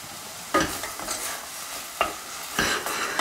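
Mushrooms and shallots sauté in a pan for a velouté of ceps, a steady quiet sizzle broken by several sharp scraping stirs of a utensil at irregular intervals.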